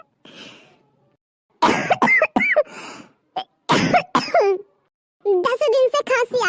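Harsh coughing fits from a cartoon character, several rough bursts in quick clusters separated by short silences, close and loud, with a voice breaking in near the end.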